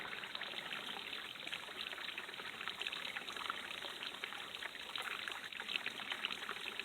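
A waterfall runs as a steady, soft rushing of water, continuous and fairly distant with no voices over it.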